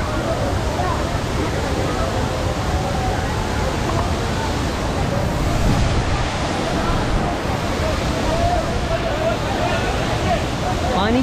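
Water rushing and spraying at Bhavali Waterfall in Igatpuri, a loud, constant roar heard from close by, with people talking and chattering under it.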